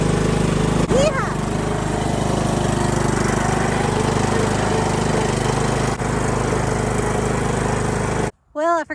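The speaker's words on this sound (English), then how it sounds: "I didn't realize the mower was that low on fuel" A petrol lawn mower runs steadily and loudly up close, its engine drone continuous while cutting weeds and grass, then abruptly dropping away near the end.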